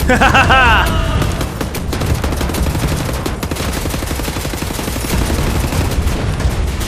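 Rocket launcher blasts and explosions in the shooter game Wolfenstein: The New Order, a loud, dense barrage of rapid booming bursts and crackling impacts that keeps going for the whole stretch with hardly a pause.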